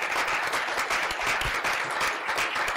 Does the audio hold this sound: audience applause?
yes